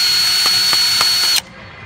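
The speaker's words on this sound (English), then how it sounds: "That sounds loud on the camera, but it's just bumping the sand." An ice drill runs with a loud, steady mechanical whir. Its auger knocks against sand or concrete a few times in a rough rhythm, then the motor cuts off sharply.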